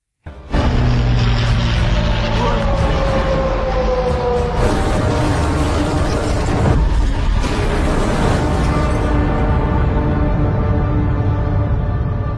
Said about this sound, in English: to take Mulyono away from the area, and not long after, the place was attacked again by Dutch planes.